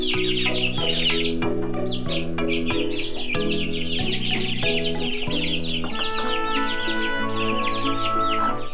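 A hen and her chicks cluck and peep in continuous bursts over steady, loud tonal music, with the bird calls layered high above the sustained notes throughout.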